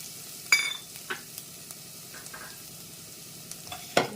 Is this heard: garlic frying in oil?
yes